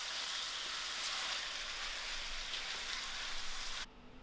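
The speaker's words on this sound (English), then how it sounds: "I will allow this to fry out till it's cooked" Chicken chutney fries in a pan with a steady, close hiss of sizzling that holds evenly, then drops off abruptly just before the end.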